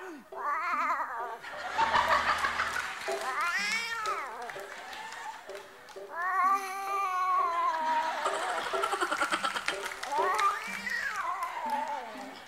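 A person mimics a cat with long, drawn-out meows and yowls, repeated several times with rising and falling pitch, loud and close.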